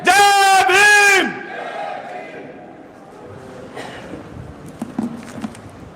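A crowd at a Jai Bhim rally honouring Babasaheb Ambedkar shouts the slogan Jai Bhim in two loud, close unison bursts, then fades into a scattered murmur of voices with a few claps.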